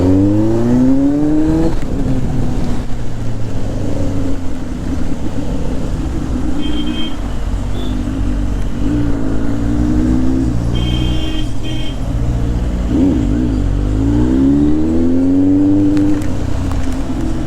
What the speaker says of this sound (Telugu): జస్ట్ మిస్ గైస్ 2 బస్సులు పక్కన పోతున్నాయి.